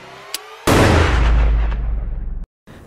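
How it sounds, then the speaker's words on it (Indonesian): A single loud, close gunshot fires at a killer doll in a horror film scene, a sharp blast with a long rumbling decay that cuts off abruptly, preceded by a faint click. "Justru di sini Chucky yang lebih dulu ditembak oleh Andy"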